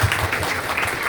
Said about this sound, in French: Alors, un applaudissement encore.